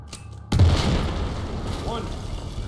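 A heavy boom as a wall is blasted open in the video game Battlefield 4, hitting hard and loud after a quiet lead-in, then tailing into a long rumbling wash of debris while a voice speaks briefly.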